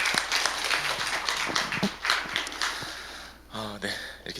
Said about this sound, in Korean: 우리 수고하시는데 박수 한번 할까요?